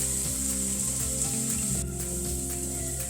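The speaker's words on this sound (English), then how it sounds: "My onions have been caramelizing now for about 12 minutes." Onions caramelizing in a pan, a soft steady sizzle heard faintly beneath a continuous hum, with no talk.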